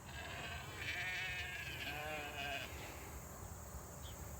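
Sheep bleating on a farm, two or three wavering bleats close by in quick succession over steady outdoor background noise, no talk.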